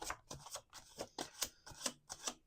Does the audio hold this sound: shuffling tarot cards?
yes